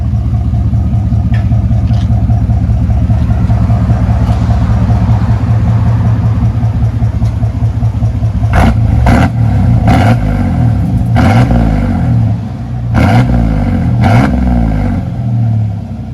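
A 1995 GMC Sierra pickup with a 4.3L V6 and straight-pipe dual exhaust, rumbling loudly at a steady idle up close, then blipped in a few short throttle bursts near the end.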